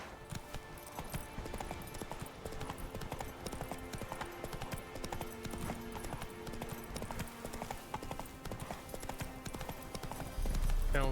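Horse hooves gallop in a steady rapid clip-clop rhythm in The Witcher 3, sitting up close and even over faint game ambience, with a brief louder swell at the very end.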